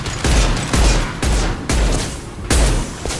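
A concussive shot fired in the Mass Effect 2 game, heard as a series of heavy, booming blasts with deep low-end thumps roughly every half second to second, loud and close with no talk over them.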